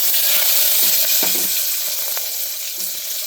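Cumin, curry leaves and chopped potato sizzle in hot oil for a sambar, a steady bright crackle with small pops and stirring clinks, close and alone.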